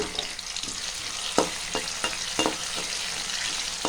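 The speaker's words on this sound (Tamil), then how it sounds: "தேவையான அளவுக்கு சின்ன வெங்காயமும் 4 பல் பூண்டும் சேர்த்துக்கணும். இது கொஞ்ச நேரம் வதங்கணும்" Shallots, garlic cloves and ginger-garlic paste sauté in a hot pan for a mushroom kurma. A steady, close sizzle runs throughout, broken by several sharp scraping stirs with no voices.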